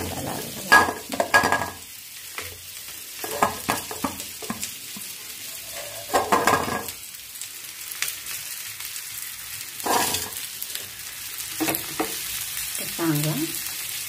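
Potato samosa filling stirred in a pan, with scattered scraping strokes and soft sizzling bursts at irregular intervals, fairly quiet and close, with a few brief metallic clinks of utensils against the pan.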